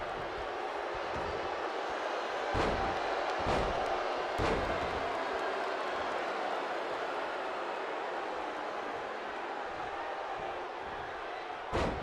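A wrestler is grabbed by the hair and slammed face first onto the ring mat during an indie women's pro wrestling match, giving several sharp impacts near 2.6, 3.5 and 4.4 seconds over a steady crowd roar.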